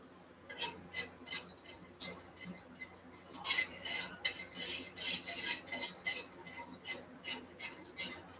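A spoon stirs and scrapes through sauce in a pot being made for lumpia, giving a steady run of rhythmic scraping strokes that grow busier midway, fairly close.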